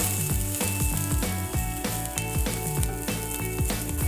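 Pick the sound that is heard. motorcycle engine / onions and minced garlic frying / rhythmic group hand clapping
onions and minced garlic frying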